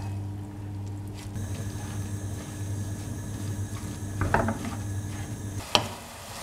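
Grated carrots sauté in oil in a pan with a steady low sizzle and occasional stirring scrapes, and a sharper utensil clatter near the end.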